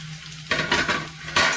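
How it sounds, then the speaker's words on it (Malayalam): Mustard seeds and chillies sizzle in a hot pan for a jackfruit seed, mango and drumstick curry. Close crackling bursts and metallic stirring clatter come in two loud surges. "കടുകിടാം. കടുക് പൊട്ടി ഇനി നമുക്ക് ചെറുതിടാം. മുളക്,"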